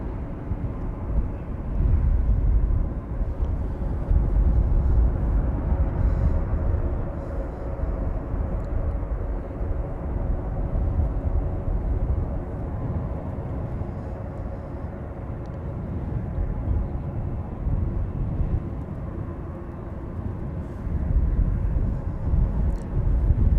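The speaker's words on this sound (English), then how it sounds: "Time for another KLM arriving from London City" A KLM airliner arrives at Amsterdam Schiphol from London City, its engines roaring as a steady, loud, broadband rumble that holds for the whole stretch with slight swells in intensity.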